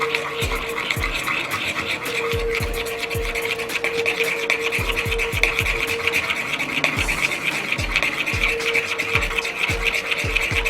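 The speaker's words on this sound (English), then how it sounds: "you're going to start stirring it around" Chocolate chips being stirred into warm heavy cream for ganache, a steady run of soft rubbing, scraping strokes against the bowl repeating quickly and evenly throughout, close and moderately loud with no talking.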